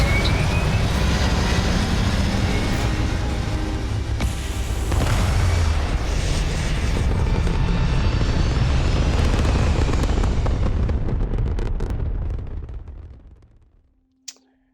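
Spaceship takeoff in the sci-fi game Starfield: a loud, sustained engine roar and rumble dominating throughout, then fading out toward the end with a brief click and tone as it settles.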